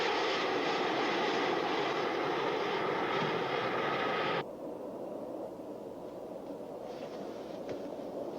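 Jet aircraft engines holding altitude at 30,000 feet, a steady broad roar that drops abruptly to a lower, muffled cabin hum about halfway through and stays even to the end.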